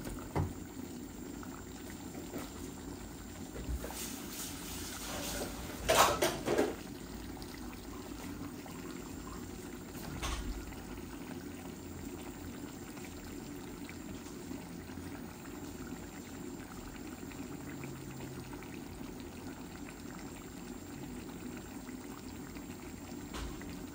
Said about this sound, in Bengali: এখন আমি মাছগুলা ঢেলে দিচ্ছি।